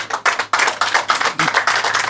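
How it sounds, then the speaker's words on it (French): Audience at a football pitch lighting inauguration applauding the company Zeria, a close, loud burst of many hands clapping in rapid uneven surges. "j'aimerais qu'on les applaudisse très fort s'il vous plaît"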